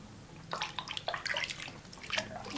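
Water splashes and drips while a child's face is washed, soft irregular sloshes and trickles at close range with no talk.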